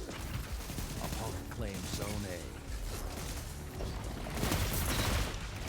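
SMG gunfire in a first-person shooter match, rapid bursts of shots crackling over busy game noise, fairly loud and close, with a voice talking over it.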